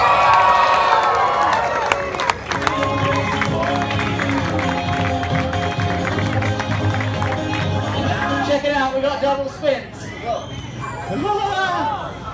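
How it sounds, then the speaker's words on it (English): A crowd cheers and shouts at a live fire show, with children's voices in the mix, sustained and loud for several seconds before thinning into scattered excited voices and chatter. "Let me hear you cheer."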